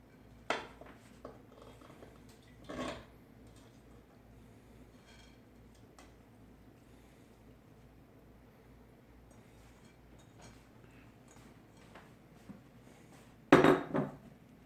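Beef and sauce for bistek tagalog tipped into a cooking pot give scattered utensil and metal clanks over a quiet background, with a sharp clatter near the start, another around three seconds, and a loud cluster of scraping knocks near the end.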